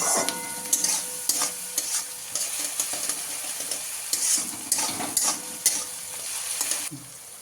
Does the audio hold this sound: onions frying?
yes